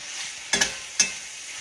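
Hamburger meat and sautéed onions are stirred in a frying pan, with two short scraping strokes of a spoon over a low, steady sizzle, and no talk.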